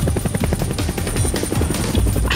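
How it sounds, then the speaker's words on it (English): Loud, close helicopter with a fast, steady rotor chop and whine, flying with a hook attached, continuous throughout with no talking. "My helicopter will help me."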